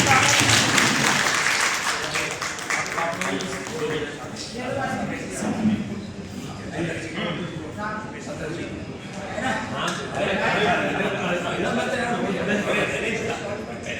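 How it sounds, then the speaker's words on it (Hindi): A crowd at a public gathering in Noida welcoming a guest with applause, sustained clapping blended with chatter and voices from the audience across the whole stretch. "तालियों के साथ स्वागत करें।"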